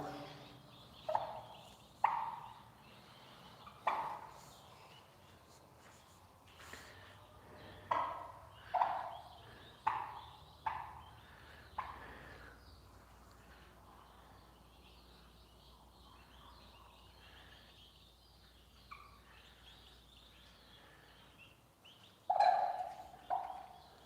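Turkey hen and her chicks on a cold day, giving a series of short, sharp calls at irregular intervals, fairly close in a quiet setting, with a longer lull before one last call.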